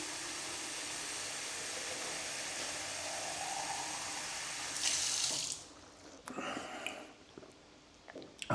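Water runs steadily from a public drinking fountain tap beside public toilets opposite a museum on a hot day, a loud continuous splashing rush that cuts off partway through, followed by softer trickles and drips.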